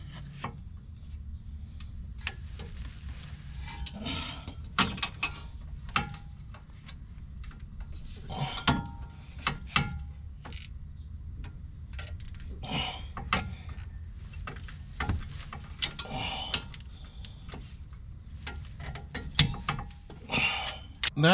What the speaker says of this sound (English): now you want to torque it down using a torque wrench at 62 foot-pounds